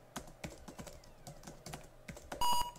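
Computer keyboard keys are struck in a steady series of distinct taps during a typing lesson, close and moderately loud, ending in a short electronic beep from the typing tutor.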